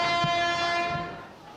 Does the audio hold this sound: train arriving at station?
yes